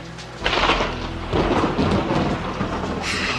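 Thunderstorm in a domestic setting: loud rolling thunder swells in after a short pause and keeps rumbling with heavy rain hissing steadily underneath, a second surge of thunder building near the end; no voices.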